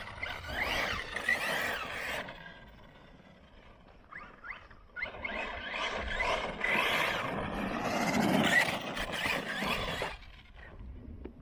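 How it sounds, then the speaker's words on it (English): An Arrma RC car does burnouts on a dusty burnout pad, its motor whining and squealing in rising bursts while tires spin and scrabble on loose dirt, close and fairly loud, with a brief lull in the middle. "Doing burnouts on the burnout pad."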